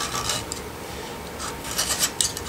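Old foam is scraped off a JBL speaker frame from a Toyota Tundra or Sequoia in short, raspy scratching strokes, several quick bursts up close with brief pauses between them.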